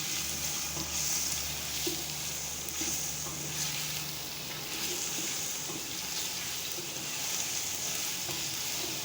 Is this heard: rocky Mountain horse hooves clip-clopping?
no